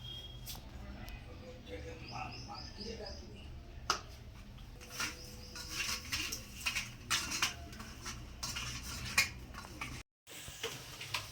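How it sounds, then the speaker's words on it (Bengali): Halved boiled eggs are tossed with salt and turmeric in a bowl, giving soft scattered clinks and light tapping against the dish, close and quiet, over a faint kitchen background hum. "দিয়ে এর মধ্যে পরিমাণ মতো নুন আর হলুদ দিয়ে ডিমটাকে মাখিয়ে রাখবো"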